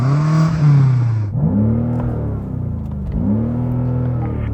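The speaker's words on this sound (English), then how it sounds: "Go on, rev up yours, Jan." A BMW M5 engine revs while stationary: a high sustained rev drops away, then two separate throttle blips swell and fall back, loud and close with no talking.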